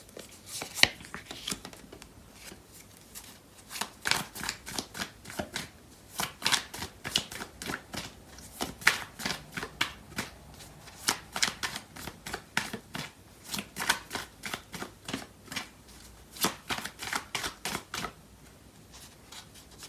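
Tarot cards being shuffled for a love reading: a long run of crisp riffling bursts in quick irregular rhythm, close and fairly quiet, with no talking.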